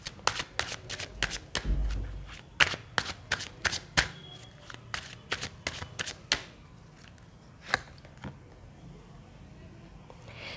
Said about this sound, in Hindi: अब उनके कार्ड्स ओपन कर लेते हैं